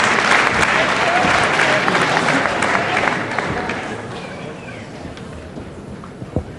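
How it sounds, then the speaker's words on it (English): Loud audience applause follows a British televised wrestling contest ending in a one-fall-each draw, a dense, sustained clapping roar that gradually thins and fades toward the end. "Just listen to that applause."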